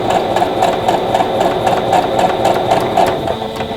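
A sewing machine runs steadily while stitching a quilt block for a Buckeye Beauty pattern, a continuous close mechanical whir with a quick regular needle rhythm and no voices.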